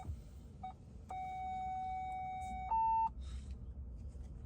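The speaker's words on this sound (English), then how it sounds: "All the beeps." Ford F150 Lightning electric truck cabin warning chimes: a long steady electronic tone followed by a short higher beep, clear and close over a quiet road hum.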